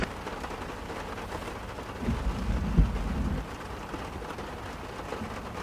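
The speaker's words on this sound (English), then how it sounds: "What do you think of this rain?" Rain falls steadily in the Arizona desert with a constant hiss of drops, and a low rumble swells briefly in the middle.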